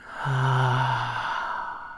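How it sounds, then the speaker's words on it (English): One deep, audible exhale during a guided relaxation breathing exercise, a long soft sighing breath out that fades away, close and alone. "Breathe in through your nose. And breathe out."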